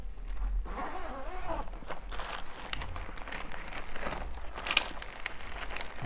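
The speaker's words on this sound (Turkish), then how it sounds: "Çantamızı açıyorum." A zipper runs along the carry bag of a Nurgaz three-legged camping grill, producing a steady scratchy rasp mixed with fabric rustling and crinkling, up close with no talking.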